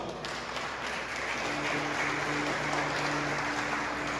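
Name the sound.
congregation applauding in church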